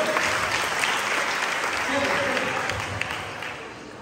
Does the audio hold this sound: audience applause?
yes